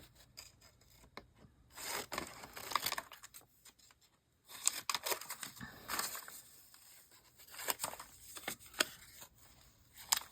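Scissors snip and paper tears as edges are cut off paper envelopes, heard in close, quiet bursts of crisp snipping, rustling and scraping separated by short pauses.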